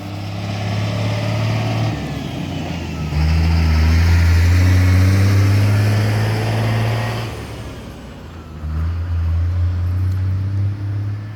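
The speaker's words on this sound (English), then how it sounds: "I didn't want to talk over that truck." A heavy truck rolls past outside, its deep engine rumble loud and steady, swelling to a peak mid-way before easing off, then a second rumble rises again near the end; no voices.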